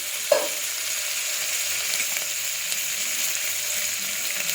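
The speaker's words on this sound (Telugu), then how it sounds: "గరం మసాలా వేసా, కొద్దిగా ఫ్రై అవ్వాలి." Garam masala and chopped ginger fry in a pan with a steady, moderately loud sizzle. A single soft clink near the start is followed by faint stirring scrapes underneath.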